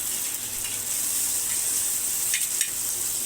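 Onion sautéing in a pan for a spicy onion chutney, a steady close hiss of sizzling oil with faint stirring scrapes, no talking.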